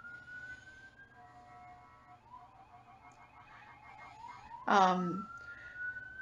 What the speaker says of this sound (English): If you hear that in the background, it's the sirens.